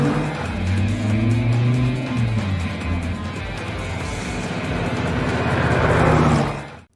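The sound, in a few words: Dodge Viper SRT sports car driving in film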